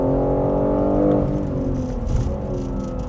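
A BMW G80 M3 at speed on a lap of the Goodwood circuit, its engine note droning steadily and loud with layered harmonics and slight shifts in pitch as it runs.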